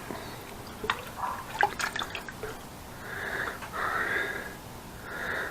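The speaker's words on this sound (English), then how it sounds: "So I will rinse out the fruit as much as possible, get all the seeds out of the fruit." Fruit is rinsed under water to wash out its seeds, with faint trickling, small drips and wet handling sounds, followed by a softer steady flow of running water, close and quiet.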